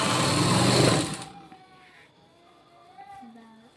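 A sewing machine stitches a blouse lining in a loud, fast, continuous whir for about a second, then stops, leaving quieter room sounds and faint voices.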